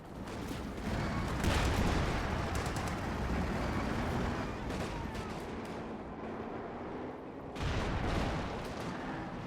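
Dense, rumbling artillery and indirect fire in a WWII strategy game, with heavy blasts and crackling gunfire washing over one another continuously, surging louder at the start and again near the end.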